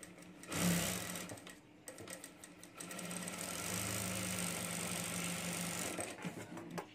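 A sewing machine stitches a strap for a small backpack keychain, a close, loud whirring run of rapid needle strokes that stops briefly, then resumes steadily for several seconds before slowing.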